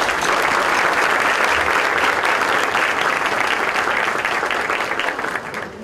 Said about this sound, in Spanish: Yo quiero darles un fuerte aplauso a todos ellos.